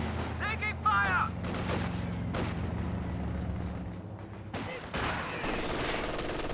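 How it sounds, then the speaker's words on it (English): MG42 machine gun fire in a Company of Heroes 2 battle, steady bursts rattling amid a dense wash of other gunfire and battlefield noise, with a couple of louder impacts. "MG42 firing away, hitting that conscript squad."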